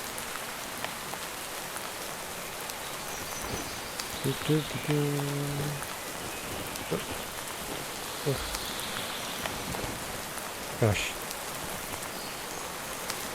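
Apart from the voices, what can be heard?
rain in Minecraft Dawncraft modpack, video game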